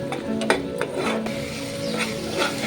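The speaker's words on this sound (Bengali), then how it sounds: "আমি কিন্তু এটা এখনো নাড়িয়ে যাচ্ছি যতক্ষণ না মশলাটা কষে যাচ্ছে তেলের সাথে" Masala being stirred and fried in oil for egg curry, soft sizzling under a few scraping spoon strokes and light pan knocks, close and fairly quiet with no talk.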